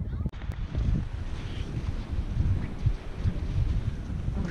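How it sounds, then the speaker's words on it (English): Strong wind buffets the microphone on a beach in Destin, Florida, a low rumbling roar with gusty swells and faint surf beneath, continuous throughout. "It is very windy."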